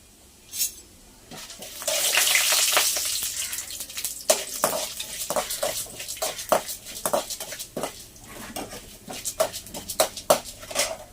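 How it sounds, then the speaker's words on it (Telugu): Mustard seeds and urad dal sizzle in hot oil for a beetroot fry, a steady hiss with a burst of louder frying early on, then scattered sharp pops and crackles close up. "ఇప్పుడైతే ఆవాలు కూడా వేగిపోయినాయి, ఉద్దిపప్పు కూడా వేగిపోయింది"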